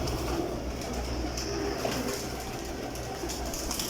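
Pigeons in a loft holding about 200 birds coo softly and continuously, overlapping low calls over a steady background hum, close by and with no talking.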